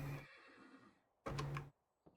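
A horse in the Minecraft video game neighs twice, a loud whinny followed by a second, with a short faint sound at the end and silence between.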